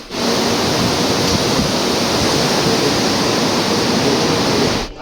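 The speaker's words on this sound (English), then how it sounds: "It was very windy and the sea was very rough." Rough open sea whipped by strong wind, heard from a cruise ship on a repositioning voyage around Africa: a loud, steady broadband roar of surf and gusts that holds for about five seconds with no talk, cutting off abruptly at the end.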